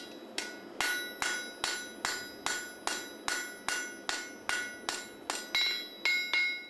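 A farrier hammers a horseshoe on an anvil while making driving shoes for heavy horses: about fourteen sharp, ringing metallic blows in a steady, even rhythm, loud and close, each with a short ring.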